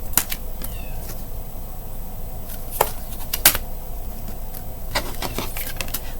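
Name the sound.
cat meowing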